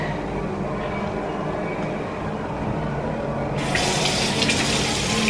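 Water runs steadily from a tap in a continuous hiss, to dampen food for a prison burrito, growing brighter and louder partway through as the flow changes, with no talking.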